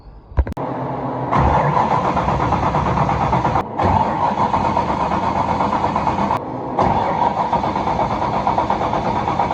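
A car engine cranks over repeatedly without catching, the starter churning in long, steady bursts separated by brief pauses, loud and close, with a couple of clunks at the start.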